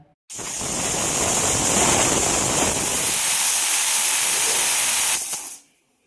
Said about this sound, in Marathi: ते दोन शिट्ट्या झाल्या आहेत